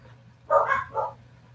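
A dog gives two short barks at a moderate distance over a low background hum.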